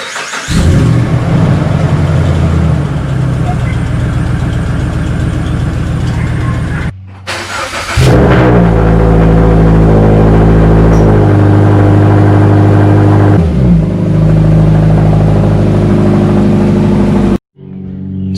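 Car engines run loudly and close by, idling and revving with a few abrupt cutoffs and restarts as vehicles are shifted around.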